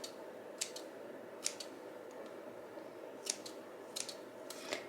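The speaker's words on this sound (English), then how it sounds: "just gonna go around and just kind of snip it a little bit" Scissors snip through a sticky tile wrapped around a small pot, several quiet crisp cuts spaced irregularly, some in quick pairs, against a faint background hush.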